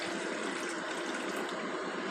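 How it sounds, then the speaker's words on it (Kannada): Water poured into a cooking pot set on a stove, a steady continuous splashing rush that stays loud and even throughout, with no voices. "ಪಾತ್ರೆಯನ್ನು ಒಲೆ ಮೇಲೆ ಇಟ್ಬಿಟ್ಟು ನೀರು ಹಾಕೋಣ ಬನ್ನಿ"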